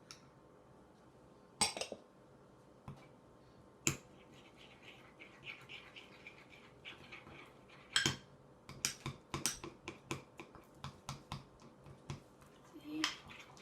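Butter being mixed into Oreo crumbs in a bowl: scattered scraping clicks and taps from a utensil against the bowl, irregular and growing busier toward the end, with quiet speech in places.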